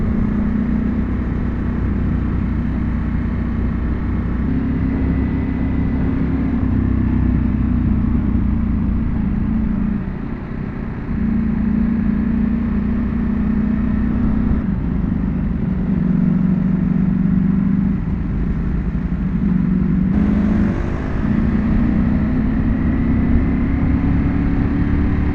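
Ducati Panigale V4 motorcycle engine running steadily while riding, a continuous loud drone with shifting pitch and brief dips, no talking.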